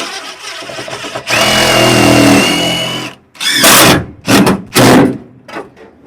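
A new power drill working on a 1969 Camaro, one sustained whirring run of about two seconds followed by several short, loud bursts as a screw is driven.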